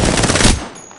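A short, loud burst of video game gunfire that cuts off after about half a second, followed by a quieter tail.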